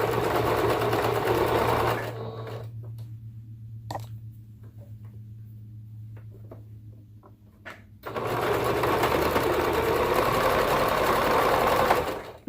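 Sewing machine stitching footie leggings for a child, a steady loud whir that stops for several seconds with a few light clicks, then resumes for a back-stitch pass over the starting point.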